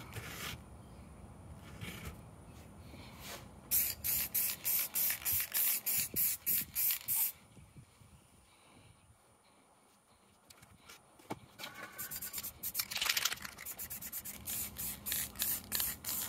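Aerosol spray paint hissing onto Losi LMT Son-Uva Digger monster truck chassis plates in quick, close, rhythmic bursts, one run of puffs mid-clip and another near the end, with quieter handling noise between.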